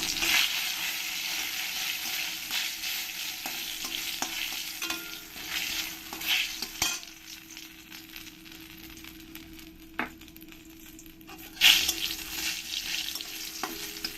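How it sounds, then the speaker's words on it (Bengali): Dried red chillies and bay leaves fry in hot oil with panch phoron, giving a steady broadband sizzle close by as they are stirred, with brief scraping clatters of the spoon in the pan and no voices. "এর মধ্যে কিছু শুকনো লঙ্কা তেজপাতা দিয়ে দেবো দিয়ে ভালো করে একবার নেড়ে দেবো"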